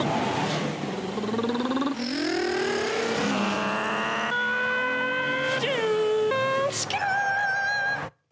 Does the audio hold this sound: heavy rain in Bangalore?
no